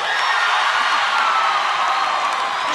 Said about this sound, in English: If you think they shouldn't get it, give me applause.